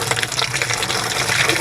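Water gushes steadily into an alum and lime mixture, a continuous close pouring rush with no pauses.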